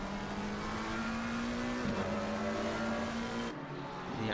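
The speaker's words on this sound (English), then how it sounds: "The absolutely gnarly sounds coming out of these cars is unrivaled." GT3 race cars in a sim racing game at Silverstone roar with a steady, sustained engine drone that holds one pitch before shifting abruptly near the end, loud and close with no voices.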